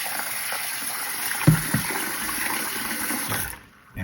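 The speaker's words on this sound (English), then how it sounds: "So you want to wash it until the water's clear." Cold tap water runs steadily while toor daal is rinsed in a kitchen, a continuous hissing gush with a few sharp knocks and splashes partway through, then it cuts off before a short burst returns.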